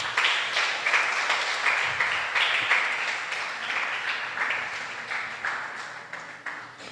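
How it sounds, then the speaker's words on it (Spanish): A church congregation's applause at a Spanish-language sermon, steady broadband clapping from many hands at moderate level, slowly tapering toward the end, with no speech over it. "Denle un aplauso al Señor."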